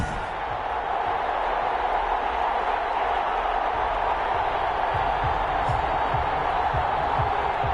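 A stadium crowd in an American football video game, Carolina Panthers against the London BlackKnights, giving a steady, dense roar of cheering and murmuring with faint thumps underneath.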